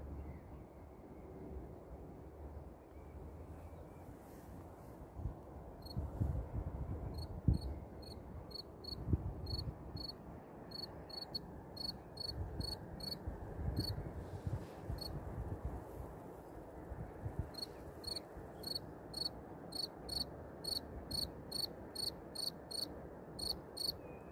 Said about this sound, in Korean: 귀뚜라미가 벌써 나올까요?